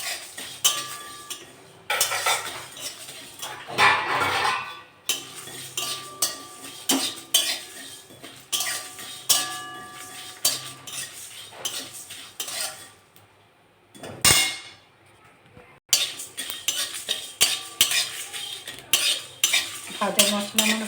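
Dry red chillies, fennel seeds and cumin roast in a pan while a spoon stirs them. Close, repeated scraping and clinking comes in uneven bursts with short pauses, with no talk.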